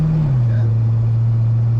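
An old Ford F1 pickup that sat off the road for decades runs down the road, its engine giving a steady low drone that drops in pitch early on and then holds even.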